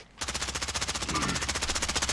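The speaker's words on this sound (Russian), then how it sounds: "Стреляет" Rapid automatic gunfire rattles without a break in Call of Duty Warzone, a dense, loud burst of evenly spaced shots lasting about two seconds, with a faint voice briefly underneath.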